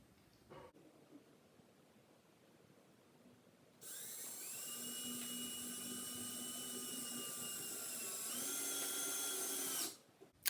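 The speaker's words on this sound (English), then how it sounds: "get your drill, put a screw on the end" A power drill drives screws into a railing, whirring steadily at high speed for several seconds, starting abruptly, rising slightly in pitch near the end, then stopping.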